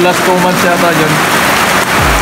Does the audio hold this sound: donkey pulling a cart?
no